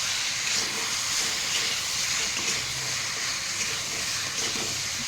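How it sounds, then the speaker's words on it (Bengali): Mango pieces and water added to a hot pan while cooking, giving a steady, even sizzling hiss that stays close and constant throughout. "এখন আমি আমটিকে ছেড়ে দেব। আমটিকে একটু নেড়ে চেড়ে তার মধ্যে একটু জল দিয়ে দিব।"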